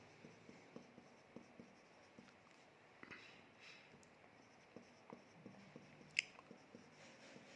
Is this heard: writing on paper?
yes